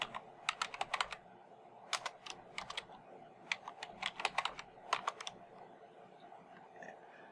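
Fingers tap on a computer keyboard in quick irregular clusters of keystrokes, faint and close, with brief pauses between runs.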